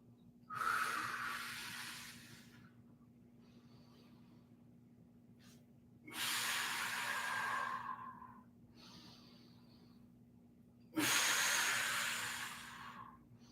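Three long, deep breaths during a stretching exercise in a full-body workout, each a slow, airy exhale close to the microphone, separated by quiet pauses over a low steady hum.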